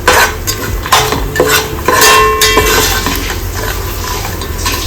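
Garlic frying with salt in a pan while being stirred for a puffed-rice chivda, a loud close sizzle under repeated metal spatula scrapes and clinks against the pan.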